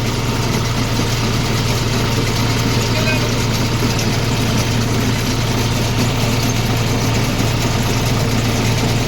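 A John Deere 5050D tractor engine runs at a steady, loud, close drone with a constant low hum and no change in pace, while a voice speaks faintly over it.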